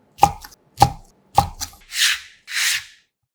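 A knife chops square Korean fish cakes into large pieces on a board, three sharp cuts followed by two softer sliding rubs.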